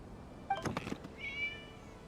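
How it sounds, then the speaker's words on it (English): A cat in the video game Genshin Impact gives a short, faint meow, followed by a brief, higher, drawn-out cry. "It was just a cat."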